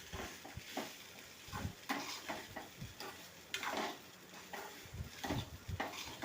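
Spoon stirring fried rice in a pan after salt, chili powder and masala go in, with a steady sizzle of frying under repeated scraping strokes against the metal, close and fairly quiet, no voices.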